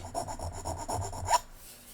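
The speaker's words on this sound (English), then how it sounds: "All I'm doing is smoothing the top there, basically." Close, rhythmic rasping as a file or sanding tool smooths the top of a plastic-bodied Hot Wheels Super Van toy, several quick back-and-forth strokes ending in a sharp scrape.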